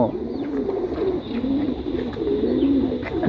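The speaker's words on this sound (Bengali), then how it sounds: "একটা ইউনিক কবুতর দেখাবো" A pigeon coos steadily and close by in a soft, continuous rolling call through the whole moment, with no talk over it.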